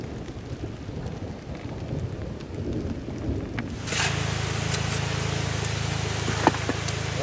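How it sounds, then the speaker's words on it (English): A heavy thunderstorm builds outdoors before a gold-prospecting dig, with steady loud rain rushing over everything and a low rumble of thunder beneath it, plus a single sharp crack near the end. "before this big storm hits."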